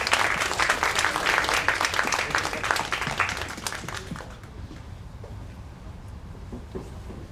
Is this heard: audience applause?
yes